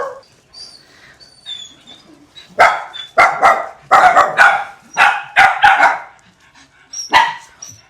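Many dogs at a dog pound bark in close, loud bursts, several voices overlapping in quick clusters, with a few high whines and yips in the quieter gaps.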